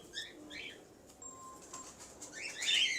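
Pigeons kept as prized birds flutter their wings in short bursts and give soft calls and chirps, fairly faint against a quiet outdoor background.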